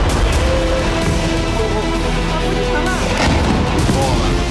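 Missile strikes and artillery fire in news footage of US strikes on Iranian military bases, loud, dense booming and rumbling that runs continuously throughout.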